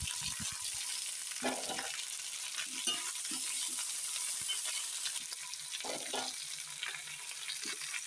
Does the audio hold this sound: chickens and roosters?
no